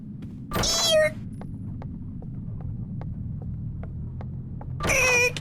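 A human voice imitates a creaking door in a spooky game, with two drawn-out, wavering creaks at the start and end. Faint, regular ticking and a low hum sit in between.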